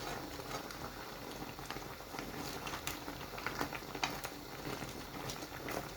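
A pot of vegetables boiling on the stove, a steady bubbling patter with small clicks and pops, close and moderately loud, with no talk.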